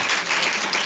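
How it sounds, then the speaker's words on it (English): Audience applause at a healthy longevity innovation mission launch event, a thick, continuous roar of many clapping hands, loud and close throughout the brief moment. "big applause for everyone here"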